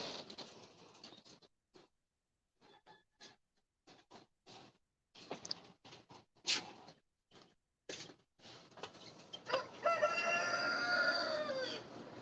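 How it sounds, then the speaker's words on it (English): Several roosters crow in separate bursts with gaps of silence between them, some calls near and loud, building to a longer, denser stretch of crowing and clucking toward the end. "all the roosters are coming up front"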